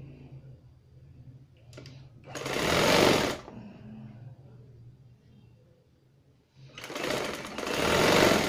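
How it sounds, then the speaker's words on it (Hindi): A sewing machine stitching a trouser seam runs in two loud, steady bursts of rapid mechanical whirring, separated by a quieter pause with soft handling clicks. "आधा इंच दबाओ अंदर और इधर से ही सिलाई लगाएंगे।"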